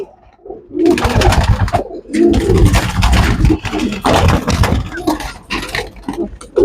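Soft, repeated pigeon coos in low murmuring bursts, close by, mixed with rustling and shuffling noises throughout.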